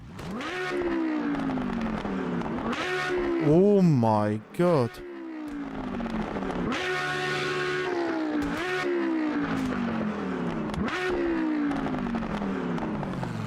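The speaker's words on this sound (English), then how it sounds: "let us just listen to the engine" A race car engine in the Automobilista 2 sim racing game revs hard through repeated rising upshift sweeps and a sharp downshift blip, loud and continuous, with a brief exclamation from a voice.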